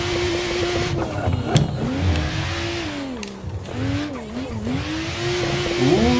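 Car drifting in the Assetto Corsa racing game, with a steady engine drone whose pitch rises and falls through revs and shifts, plus tire squeal, loud and continuous with no talking.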